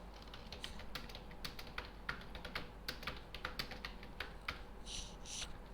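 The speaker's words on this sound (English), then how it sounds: "I am going to write a proverb inside" Keys on a computer keyboard are tapped in quick, uneven bursts, typing text into a Scribus text frame; soft, close clicks with no voices.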